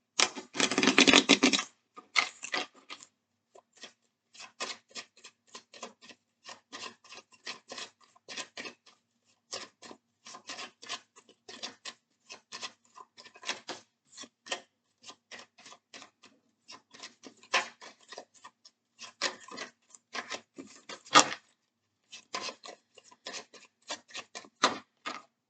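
Tarot cards are shuffled and drawn, making soft, quick papery clicks and flutters in scattered bursts, with a denser riffle at the start, close and quiet, with no voices.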